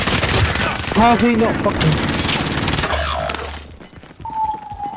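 Sustained automatic gunfire in a shooter video game, loud and close for about three seconds while a player talks over it, then cutting away to quieter game sounds.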